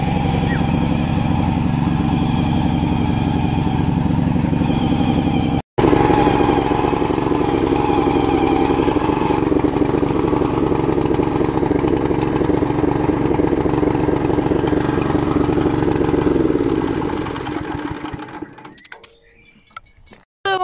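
A tractor engine runs steadily under load as it is driven, with a loud, continuous chugging drone. A brief cut interrupts it partway, then it drops and winds down near the end.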